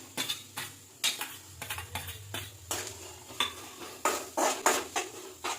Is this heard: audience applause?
no